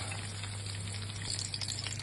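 Steady, crackling sizzle of pork chops frying in a hot frying pan, continuous and close, with a faint low hum underneath and no talking.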